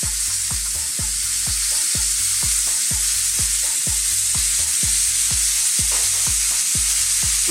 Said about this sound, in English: We're simply going to flip this over a few times now, give it a couple of coats